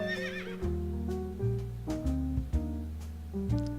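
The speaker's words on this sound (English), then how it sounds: "I hope everyone enjoys the horse whinny you hear when you drop the mailbox." A horse whinny from the video game Turtle WoW, played when a mailbox is dropped: a high, wavering neigh, then snorting and repeated thudding hoof-like knocks, close and fairly loud.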